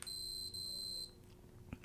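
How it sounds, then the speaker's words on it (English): A Seiko Panda chronograph quartz watch alarm sounds as a faint, high electronic beeping tone that rings steadily for about a second, pauses briefly, then cuts off. "It's not like a fully mechanical alarm, but it's different from a smartwatch alarm."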